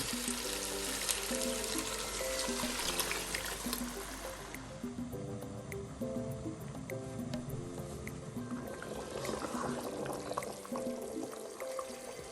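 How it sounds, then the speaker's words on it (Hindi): Water is poured into a pot of chicken with zucchini, carrots and bell peppers, giving a continuous close gurgling stream that shifts to a lighter, splashier trickle partway through, with no voices. "और साथ ही पानी ऐड कर देंगे हस्बे ज़रूरत।"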